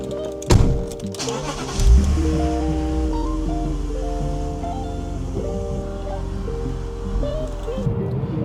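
A BMW E46 pulls away on a test drive after a cooling system refresh, with a steady engine hum and road rumble rising as it sets off, an initial thud, continuous and moderately loud throughout.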